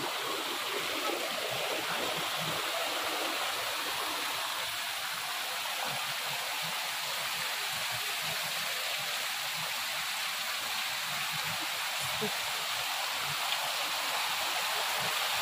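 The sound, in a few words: water flowing from Muktinath temple water spouts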